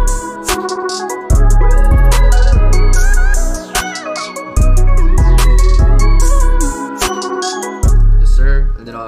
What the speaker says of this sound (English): I went ahead and got this hi-hat pattern.